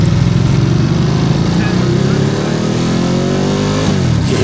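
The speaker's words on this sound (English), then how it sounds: "you hear me going through the gears there. The motor has this sound." A Ducati Multistrada Enduro motorcycle engine revs loud and close while the rider shifts through the gears. The engine note climbs steadily, then drops at each shift, over constant wind and road rumble.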